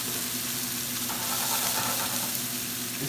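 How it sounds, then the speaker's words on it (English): White wine poured into a hot pan while cooking scallops and risotto, giving a steady, loud broadband sizzle that swells slightly midway and continues without pause. "At this point, I'm going to add a little white wine."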